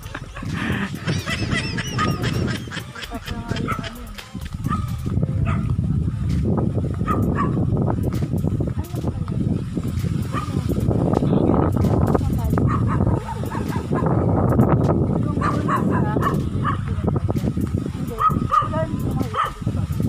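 A dog barks repeatedly on an outdoor walk, mixed into a steady wash of wind and ambient noise, with a voice talking over it.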